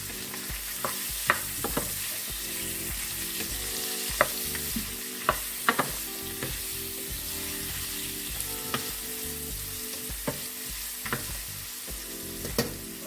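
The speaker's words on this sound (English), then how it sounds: "a little bit of Caribbean spice and roasted garlic seasoning. So you're going to stir this in nicely." Chicken stir fry seasoned with Caribbean spice and roasted garlic seasoning sizzles steadily in a pan, while a spoon stirs it with repeated light scrapes and taps scattered over the continuous frying hiss, with no talking.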